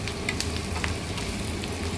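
Garlic cloves and curry leaves sauté in hot oil for a homemade garlic pickle, a loud, close, continuous crackling sizzle over a brief moment.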